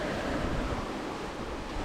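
Wind and waves at sea in the Mediterranean produce a dense, constant roar of surf and gusting wind noise, loud and unbroken with no voices.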